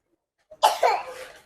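One short child's cough, then a second softer one, close and isolated against silence.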